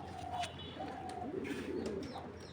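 Soft, low coos from a long-bred racing pigeon, a few faint murmuring calls amid light background noise.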